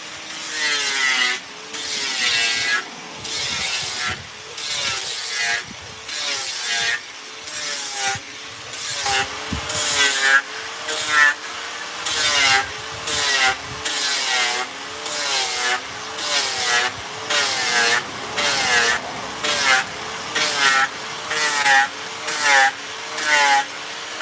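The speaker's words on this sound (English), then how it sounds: "It don't take long to grind this down." Grinding down a plaster-type Michael Myers mask mold, a rasping, scraping tool noise repeating in regular strokes with brief pauses between each pass, close and steady for the whole stretch.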